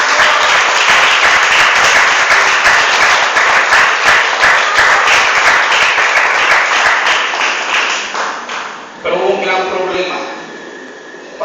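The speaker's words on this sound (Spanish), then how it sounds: "Dale ese aplauso al Señor." Church congregation applauding with loud, dense, sustained clapping that fades near the end, followed by a brief burst of voices and noise.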